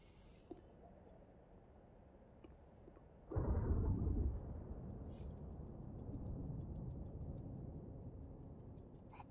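Thunderstorm in the video game Life is Strange, a low rumbling thunder roll that breaks in suddenly and then settles into a steady storm wash, under quiet ticking and faint background sounds.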